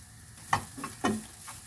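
Semiya vermicelli frying in a pan as it is stirred with a utensil, giving a soft continuous sizzle broken by a few distinct scraping strokes.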